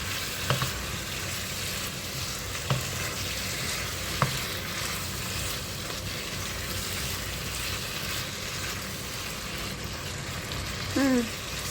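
Courgette and chicken fry steadily in a pan, a continuous loud sizzle with a few faint clicks of the stirring utensil and a brief scrape near the end.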